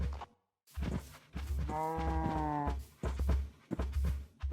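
Cows and a sheep on a Minecraft farm make repeated animal calls: a drawn-out tonal moo sits in the middle among several shorter bleating and lowing sounds, close and fairly clear, separated by brief pauses.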